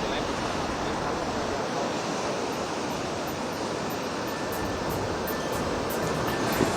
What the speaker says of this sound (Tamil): புதுச்சேரி கடல் அலையானது சற்று அதிகரித்து காணப்படுகிறது